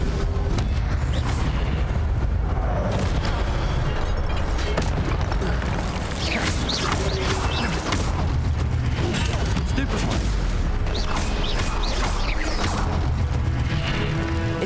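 Incendio fire spell cast over and over in the video game Hogwarts Legacy, giving dense, loud booming and crackling bursts of magical fire with chaotic combat noise running through the whole stretch.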